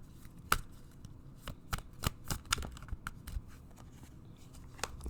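Tarot cards are shuffled and drawn by hand: irregular crisp riffling snaps and soft slaps, close and quiet, in bursts with short pauses.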